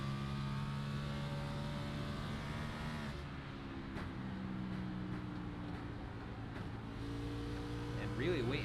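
A race car engine in a sim racing game, heard on board at the Dover 200, holds a steady loud drone, dips as the throttle eases, then rises again with a climbing pitch near the end; no one talks over it.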